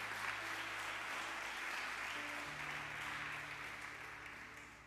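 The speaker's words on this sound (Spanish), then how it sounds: "Un aplausito al Señor" Sustained applause from a church congregation during a sermon, many hands clapping evenly at a distance with a faint organ or keyboard tone droning underneath, tapering slightly toward the end.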